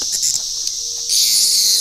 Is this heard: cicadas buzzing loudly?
yes